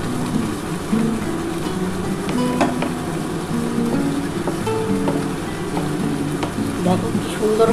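Sandesh sweet mixture being stirred in a pan over heat, a spoon scraping and stirring steadily with soft sizzling beneath and intermittent clinks, moderately loud and close.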